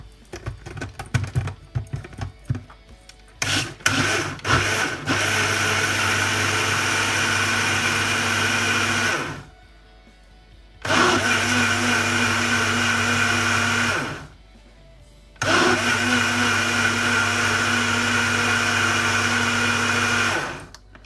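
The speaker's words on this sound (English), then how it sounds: "And we'll put the lid on and give that a good blast on the blender." A countertop blender whirs loudly as it blends a coconut coffee mixture in steady bursts, with two brief pauses between runs, after some opening clatter of the lid and jug.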